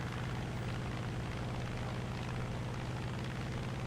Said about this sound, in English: The engine and oil tolerances are very, very high for this aircraft.